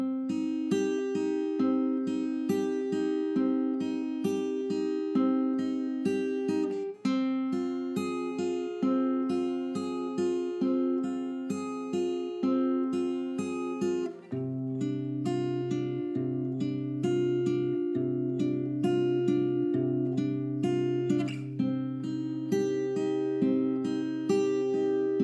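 Solo guitar plays a theme from The Leftovers: picked melodic notes over repeating arpeggiated patterns at a steady moderate pace, clear and close, with no voice.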